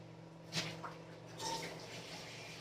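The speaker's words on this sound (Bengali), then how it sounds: "মুগের ডালটা সেদ্ধ একটু জল ঢেলে দিই" Water is poured into a pot of boiling mung dal, giving a soft splash followed by a steady, gentle trickle that runs for a couple of seconds, close by, with no talking.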